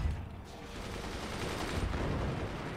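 Cannon fire in the fortress-building game Forts, a dense, continuous barrage of booming shots and impacts rolling together for the whole stretch, loud and steady with no talk.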